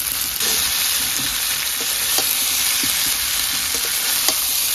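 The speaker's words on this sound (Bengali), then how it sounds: "আলুটা মশলা দিয়ে লাল লাল করে কষানো হয়ে গেছে।" Fried potatoes cooking down in a pan with chili, dried red chili, cumin, ginger and garlic give off a loud, continuous close-up sizzle, dotted with faint ticks and spatters and nobody speaking.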